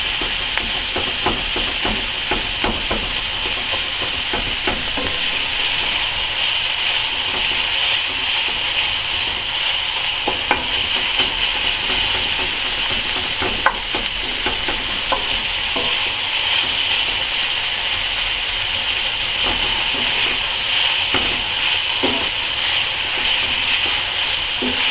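Onions and chorizo frying together in a pan for breakfast burritos, a steady close sizzle with the crackle of fat and occasional stirring scrapes running through the whole stretch, no talking.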